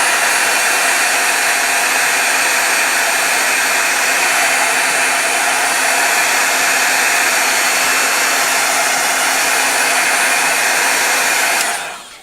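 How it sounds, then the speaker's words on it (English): Steady, loud blow dryer roar drying a tin model kit, running continuously for about twelve seconds, a broad airy whoosh that cuts off abruptly at the end. "I'm going to dry it really quick here with my blow dryer,"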